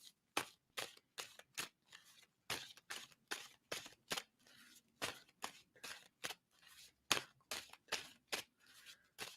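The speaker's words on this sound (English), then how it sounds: "tell me when I should stop shuffling on that" A deck of tarot cards being shuffled by hand, giving a quick run of crisp riffling bursts separated by short pauses, close and fairly loud, with no talking.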